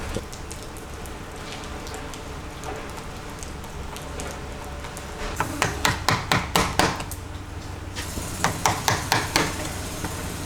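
Plastic bumper clips are knocked out with a hammer and chisel in a workshop, giving a quick run of sharp metallic taps, then a second burst of hits over a steady background hiss.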